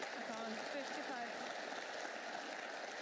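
Snooker crowd applauding a 55 break at the Scottish Open semi-final between Mark Allen and Lei Peifan, a steady, fairly quiet wash of clapping from the arena audience with a commentator's voice over it.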